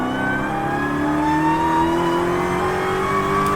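An 807 HP Dodge Hellcat Super Stock engine revs continuously and loudly up close, its pitch climbing steadily throughout as the revs build, with no pause.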